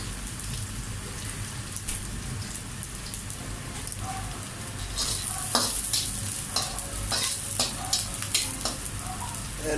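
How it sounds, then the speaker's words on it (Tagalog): Onion sautéing in a pan for pancit guisado: a loud, steady crackling sizzle throughout, growing busier and more spattery halfway through, with occasional stirring scrapes. "igisa natin ang sibuyas first."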